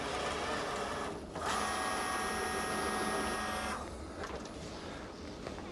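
A cheap tapping machine cuts a 1/2 inch threaded hole, its motor letting out a loud, steady whine and hum with a rising mechanical tone that runs for a few seconds before easing down. It is heard up close with no talking.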